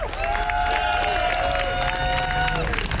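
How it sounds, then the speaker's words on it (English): Rally crowd in Washington, D.C. at a Hands Off Assange protest cheering and clapping for event organizers, loud continuous outdoor crowd noise with shouts and a sustained tonal whistle or horn running through it. "I want to give a huge round of applause to all the organizers who put this incredible event together"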